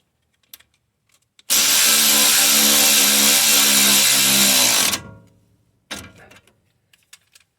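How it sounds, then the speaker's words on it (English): Bolts on a Mercedes GLK (X204) front strut assembly are run down to snug with a power tool: one loud, steady mechanical whine of about three and a half seconds that winds down, then a few brief clanks follow. "And next, run down the bolts to snug."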